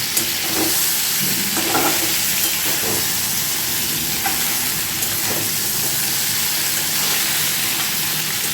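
Boiled mukhi taro fries in a pan with a loud, dense hiss that runs the whole time, broken by a few soft scrapes of stirring near the start.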